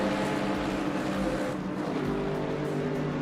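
A GT3 car in the Le Mans Ultimate racing game revs flat out at maximum rpm, a loud, buzzing engine drone with brief low thumps, held steady throughout.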